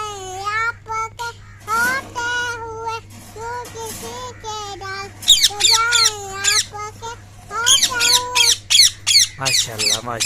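A parrot squawks and whistles in repeated shrill bursts, near and loud, with a steady electrical hum underneath and occasional human voices.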